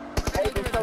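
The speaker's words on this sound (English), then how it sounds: "Listen to that gunfire." A rapid burst of about eight gunshots from an automatic weapon in the video game BGMI, close and punchy, while someone speaks over the fire.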